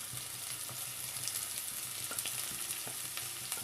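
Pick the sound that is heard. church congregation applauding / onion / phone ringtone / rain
onion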